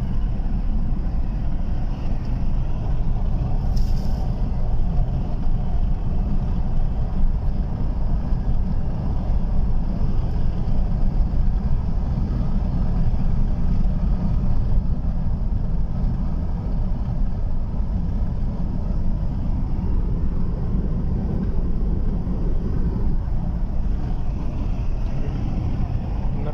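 A car rolls along with its engine switched off and gear in neutral, moving on its own through Wadi al-Baida near Madinah. A steady, loud broadband rumble of tyres and wind noise runs throughout without a break.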